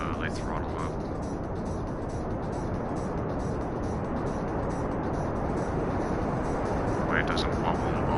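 A spacecraft engine in Kerbal Space Program, throttled up during docking at a Jool station, produces a steady broadband roar that holds loud and constant throughout without breaks.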